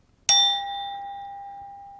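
One close tap of a metal spoon piece against an empty glass held at the bottom produces a bright chime whose steady ringing tone lingers and gradually decays, alone without talk.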